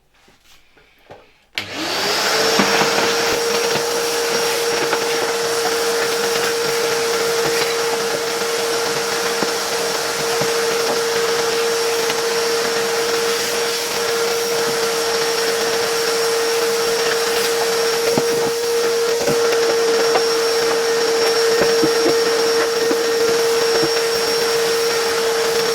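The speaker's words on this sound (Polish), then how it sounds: "biorę teraz odkurzacz i biorę się za wyczyszczenie" A vintage 1982 Zelmer type 168s vacuum cleaner switches on and runs at a steady, loud whine with a constant hum and faint rattles as parts are cleaned, continuing unbroken to the end.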